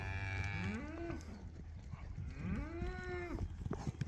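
Cattle on a farm pasture after winter feeding, two long drawn-out moos rising and falling a couple of seconds apart, fairly close, with light thumps and shuffling underneath and no talking.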